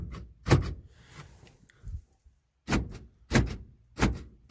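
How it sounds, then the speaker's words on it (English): Power door locks on a 1979 Lincoln Continental Town Car actuating, several loud, close mechanical thunks spaced by short pauses, with faint motor whir between them. "Door locks."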